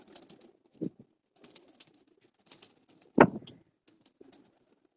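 Pigeons cooing and fluttering in a crowded rooftop loft, soft repeated coos with wing flaps and scattered bird calls, fairly close.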